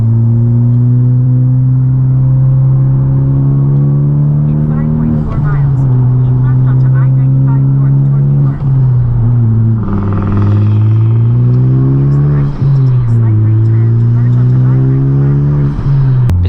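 Honda Civic Type R driving in R mode, with a steady, loud engine drone inside the cabin whose pitch rises and falls as the car accelerates and shifts, and a voice talking over it.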